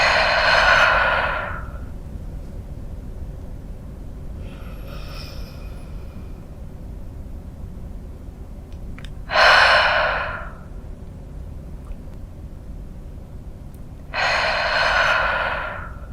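Students doing a classroom breathing exercise: three long, audible breaths, each a loud airy rush lasting about a second or two, separated by long stretches of quiet room tone.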